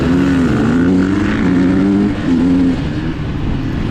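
A 2022 KTM 300 XCW dirt bike revs hard and close during a hare scramble race, its engine note rising and falling as the throttle is worked.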